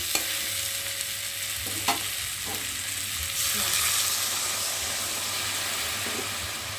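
Water poured into a pan of sizzling mixed vegetable curry with potatoes, a steady frying hiss that swells briefly when the water hits, with faint stirring clinks.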